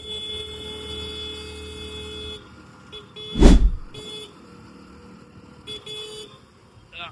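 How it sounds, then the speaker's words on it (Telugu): Road traffic with engine hum in the background and one loud, short car horn blast near the middle, then quieter passing vehicles. "ఎంత ట్రాఫిక్ ఉంది వద్దురా"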